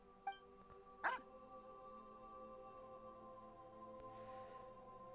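A dog barking in a video game, two short distant-sounding barks near the start over a steady low ambient hum and music-like drone, with no talk.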